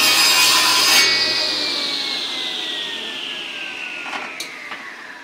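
A saw cuts through wood trim on a miter sled, one continuous rasping pass that is loud at the start and then tapers off as the blade finishes, with a few light knocks near the end.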